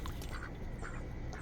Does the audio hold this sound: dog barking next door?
no